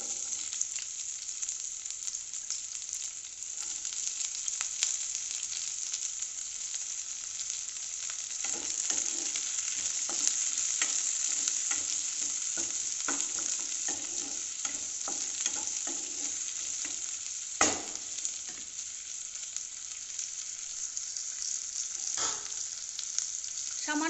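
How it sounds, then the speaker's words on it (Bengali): Chopped onions fry in hot oil in a kadai, giving a constant bright hiss that runs the whole time, with occasional scraping stirs and a few sharper clacks of the spoon against the pan. "তেলটা গরম হয়ে গেছে এবার আমি পেঁয়াজ কুচো দিয়ে দেবো"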